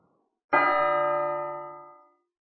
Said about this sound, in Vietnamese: Lúc này một tiếng chuông vang lên, chấn động đất trời